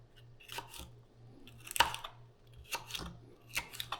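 A knife slices through poblano peppers on a cutting board, crisp crunchy cuts in irregular pairs and clusters, close and quiet, with a faint low hum between strokes.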